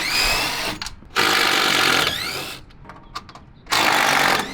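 Power drill running in bursts to back screws out of a Steelway welded angled steel bulkhead cellar door resting on its shipping skid; two long loud whirring runs separated by short clicks and handling noise.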